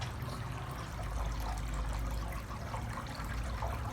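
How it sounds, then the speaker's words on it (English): Water trickles and splashes continuously from a Glenville cascading tabletop fountain run by a small pump at its highest setting, a steady, moderately loud indoor babble. "And this is my video review of the Glenville water pump cascading water fountain."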